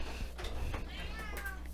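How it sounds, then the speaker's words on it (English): A cat meows from behind a closed door, giving a few short, muffled calls and then a longer, clearer meow, over a quiet indoor hum with no speech. "Now he's just going to sit there and meow out the door"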